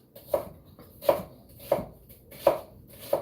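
Onions being chopped on a cutting board for a spicy keto chicken bowl, five crisp knife strikes in a steady rhythm about three-quarters of a second apart, close and distinct with no talking.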